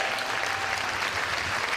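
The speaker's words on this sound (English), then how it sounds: "Give a round of applause for asking the questions." Audience applause in a seminar room, a brief, dense burst of steady clapping from the crowd.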